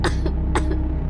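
A girl coughs in a horror story narration, two sharp close coughs about half a second apart over a low steady background hum.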